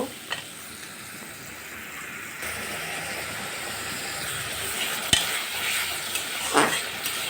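Turmeric, chili and salt frying as a spice paste over fried potatoes for a snakehead fish curry, a steady close sizzle with occasional sharp spoon clacks against the pan.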